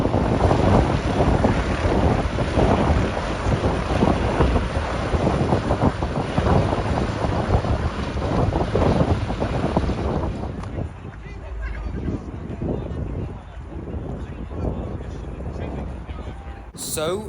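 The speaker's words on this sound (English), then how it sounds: "the weather wasn't great, and it was quite windy" Strong wind buffets the microphone at an airshow in a loud, continuous roar, easing slightly partway through while voices murmur faintly underneath.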